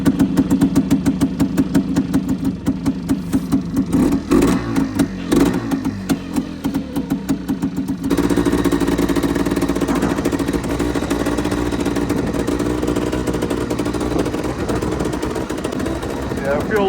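A 1990 off-road vehicle engine idles on choke in the cold, a steady close rumble that runs throughout with a slight change in tone partway, while a voice talks over it.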